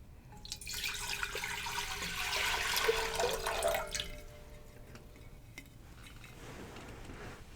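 Five cups of water splash and stream into a metal canning pot for a few seconds, then the pouring stops and faint drips and small clinks follow.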